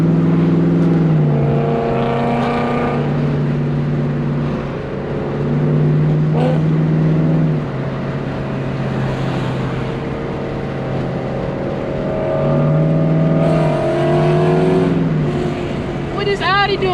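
Car engines rev and climb through gears in repeated rising surges during a back-road street race, including a Mustang, loud and close, with a whistling high tone over the roaring motors.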